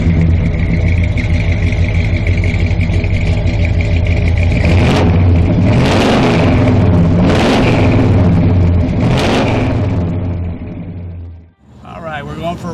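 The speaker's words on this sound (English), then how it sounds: "we're going for a ride in our Grand Prix LJ" A 1975 Pontiac Grand Prix LJ on the road, its engine a steady, loud low rumble with several swelling passes of wind or road noise, cutting out abruptly near the end.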